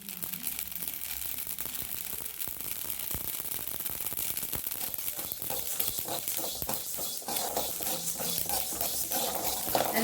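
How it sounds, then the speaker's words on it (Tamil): Mustard seeds, with a little fenugreek, pop and crackle in hot oil while tempering spices for lemon pickle, giving a dense, continuous, fairly faint crackle without pauses. "கடுகு நல்லா வெடிக்குது."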